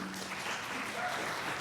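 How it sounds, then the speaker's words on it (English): An audience claps for a panel at the close of an event on Roe and the 14th Amendment, a short, fairly even patter of hands at moderate level. "join me in a round of applause for our amazing panel"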